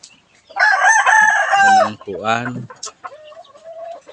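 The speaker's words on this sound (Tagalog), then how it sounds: "mga manok ni Joey Estrada." Joey Estrada's chickens cluck and crow close by in loud, raspy calls, one long rooster-like cry followed by shorter clucks, with a brief voice mixed in.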